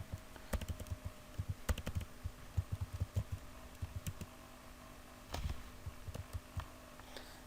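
Typing on a computer keyboard while entering data into accounting software, irregular bursts of soft key clicks with short pauses, close but quiet over faint background hum.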